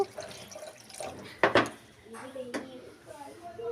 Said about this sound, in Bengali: এখানে আমি পুরোপুরি জল দিয়ে দেব দিয়ে এটাকে আমি ভালো করে আবারও ফুটিয়ে নেব